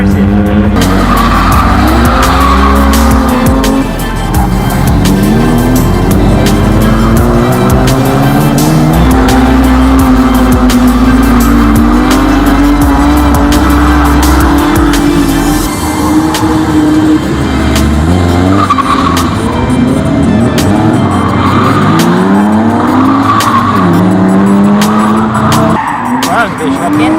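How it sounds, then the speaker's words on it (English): A car drives a figure of 8 at Santa Pod raceway, engine revving loud and close while tyres squeal and skid in long rising and falling wails, the engine note dropping away near the end. "I'm going to try this like figure of 8 thing now, just to practice my like going back"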